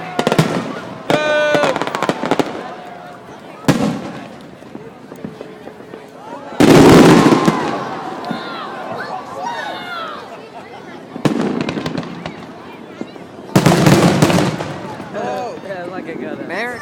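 Fourth of July fireworks over San Diego Bay: loud booming shell bursts at irregular intervals, some with crackling tails, while people nearby talk and exclaim throughout.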